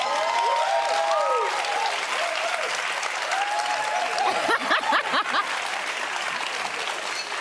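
A studio audience breaks into sustained applause and crowd noise during a dating-show segment, steady clapping filling the room without speech.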